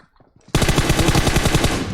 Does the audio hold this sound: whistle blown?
no